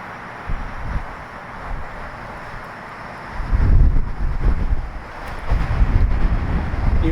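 Gusty wind buffets an outdoor microphone beside an old water tower at Sulphur Springs, with low rumbling swells that build after a calm start and rise again near the end, with no voices.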